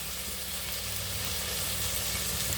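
Tomatoes sautéing in hot oil with rock salt for a mushroom biryani give a steady, close, continuous sizzle with no voices.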